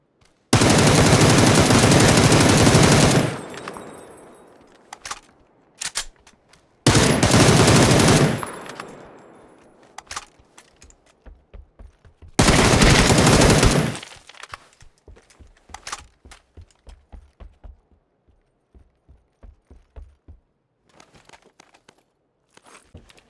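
Bursts of automatic gunfire in PUBG, three long loud sustained volleys separated by pauses, followed by scattered single shots and sharp cracks tapering off toward the end.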